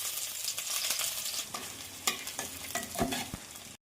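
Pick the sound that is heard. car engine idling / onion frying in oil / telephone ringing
onion frying in oil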